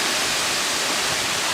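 The Nglirip waterfall roars as a loud, constant rush of falling water, dense and unbroken, with no voices over it.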